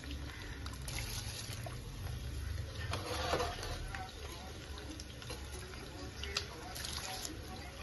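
Rice tipped into a pot of boiling salted water with oil, giving a steady bubbling, watery rush with a brief splashy pour in the middle, fairly close and moderately loud throughout.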